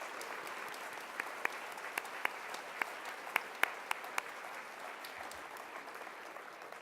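Applause from a conference audience at a worksite wellness event honoring staff for twelve years of service; fairly quiet, steady clapping lasting several seconds with a few sharper claps standing out, no talk over it.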